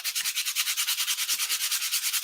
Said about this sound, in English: just sanding these edges